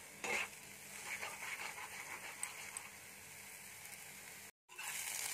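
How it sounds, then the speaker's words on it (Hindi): Eggs cooking with vegetables in a hot pan for a street-style egg Maggi masala, giving a steady sizzle with scraping stir strokes near the start and a brief gap before the frying resumes. "और अंडे को सब्जियों के साथ पकाएंगे।"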